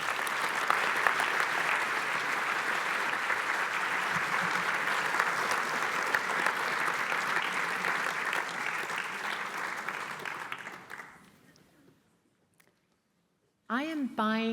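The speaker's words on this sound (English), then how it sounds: "Big applause." An audience at an evening campus lecture applauds loudly and steadily for about ten seconds, the clapping fading to near silence before a voice begins speaking at the end.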